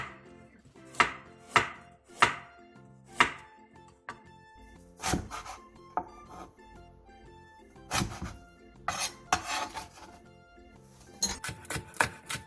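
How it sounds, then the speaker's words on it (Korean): A knife slices an onion into thin strips on a cutting board, sharp close knocks in quick bursts and scattered single strokes, heard alone in a quiet kitchen. "양파 1개를 채 썰어주세요."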